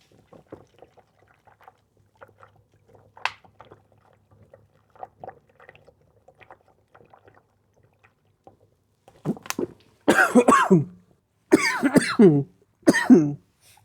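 Quiet shuffling and small noises, then a burst of harsh, loud coughing, four or five heavy coughs in quick succession close to the listener.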